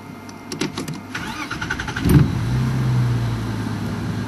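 A safari vehicle's engine turns over and settles into a steady low idle close by in the bush while watching elephants, with brief clicks and shuffling before it.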